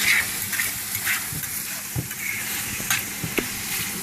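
Shrimp scampi sizzles in a pan with a constant crackling hiss, and a quick stir adds a few close scrapes and clinks.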